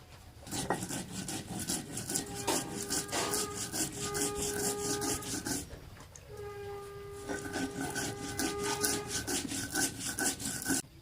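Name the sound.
grinding onion, garlic, ginger, coriander and cumin into paste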